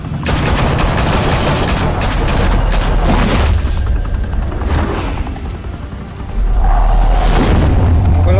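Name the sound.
gunfire and explosions in a Batman video game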